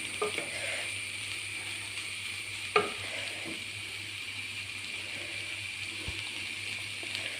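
Jackfruit seeds being stir-fried in a pan for a thoran with drumstick leaves and egg, a steady low sizzle with occasional scrapes and clinks of stirring, close and fairly quiet, no voices.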